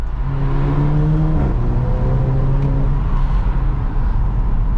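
A Volkswagen GTI Edition 30 fitted with an APR exhaust accelerates, its engine note climbing steadily and then dropping at a gear change before rising again, loud and close throughout with no voices.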